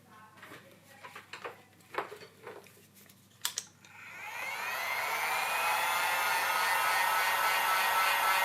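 A heat gun set to about 100 degrees warms a POCO X5 Pro phone to loosen the screen for replacement. A few soft clicks and handling knocks come first, then a loud, steady blowing whoosh starts and keeps going to the end.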